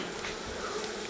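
Honey bees buzz at an open hive during gentle smoking, a dense, continuous hum of many insects close by with no talking.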